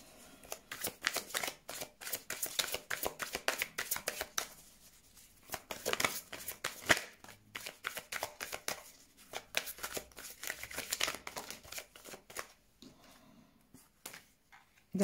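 Tarot cards are shuffled and handled at close range, giving a steady run of soft riffling, flicking and slapping bursts with short pauses between them, quiet overall.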